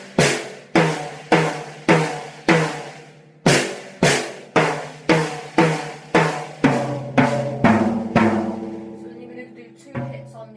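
A slow, simple drum fill on a drum kit: about fifteen separate loud strikes moving down across snare and toms in an even, unhurried rhythm, each decaying briefly, ending with a final hit, close and with no talking.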